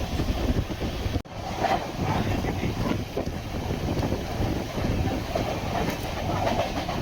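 Loud, continuous roar of the Chennai–Mumbai superfast express running on the tracks, with wind buffeting and a brief sharp dropout partway through.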